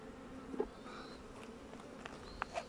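Honeybees buzz faintly inside a hive during winter preparation, a soft continuous hum with a few brief louder passes of individual bees close by.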